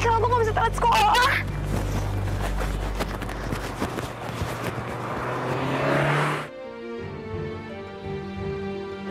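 A car rushes past close by, its engine swelling loudly and then cutting off abruptly, followed by a quieter musical background.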